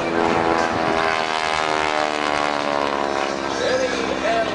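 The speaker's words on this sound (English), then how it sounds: "the airplane just continues to turn on the torque of the engine" Propeller airplane engine held in a vertical torque roll at an air show, a steady loud drone with strong harmonic bands that shift slightly as the aircraft hangs and turns, continuous throughout with a faint voice under it.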